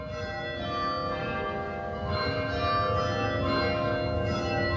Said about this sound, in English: Now it's the bells.